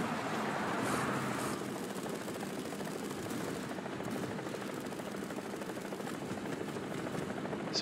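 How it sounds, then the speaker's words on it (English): A helicopter in the War Thunder video game, a continuous thudding rotor drone with engine whine that holds steady at mid distance for several seconds, with no voices over it. "Ooh, helicopter."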